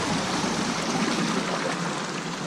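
Water flowing through channels, a steady close rushing and trickling stream with gentle gurgles, continuous and even throughout.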